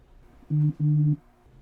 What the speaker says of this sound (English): My phone buzzed.